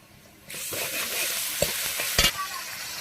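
Onions and cumin sizzle steadily in hot oil for a pointed gourd curry, starting after a short quiet moment, with a few sharp stirring scrapes and clinks close by.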